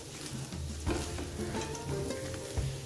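Potatoes being mixed with coarsely ground roasted peanuts in a pan, a soft sizzle with irregular scraping and thudding of the spoon, close and moderately quiet.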